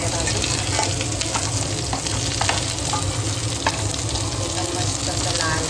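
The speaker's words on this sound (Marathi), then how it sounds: "आता आपण कांदा घेऊया भाजून." Onion frying in a pan while being stirred, a loud, continuous crackling sizzle with scraping stir sounds and small pops, close and unaccompanied by speech.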